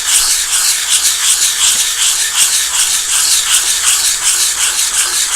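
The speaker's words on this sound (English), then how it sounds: "So now I just take this and sand it down." Steady, continuous rasping of sandpaper rubbing back and forth on a hard plastic miniature base, close and fairly loud with a quick, even rhythm.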